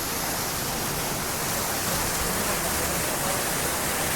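Steady, dense rush of falling water from a waterfall in Epcot's Nordic section, continuous and even throughout with no clear break, a broad hiss filling the whole space.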